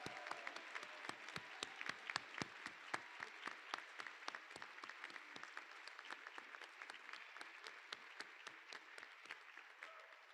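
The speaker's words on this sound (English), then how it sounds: "We should give a round of applause to the weather and just being together with one another." A crowd applauds steadily for about ten seconds at an outdoor school prize assembly, many hands clapping at a brisk, even pace, moderately distant and fairly quiet.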